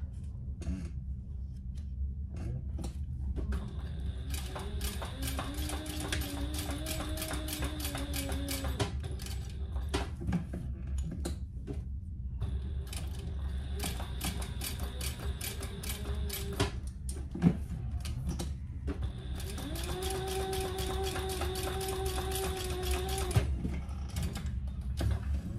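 A sewing machine top stitches a vinyl hip bag in three long runs separated by pauses, its motor whirring with a rising and falling hum over a steady low background drone.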